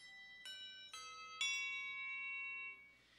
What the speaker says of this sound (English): a set of Pettit and Fritzen handbells from Holland, and they sound like this.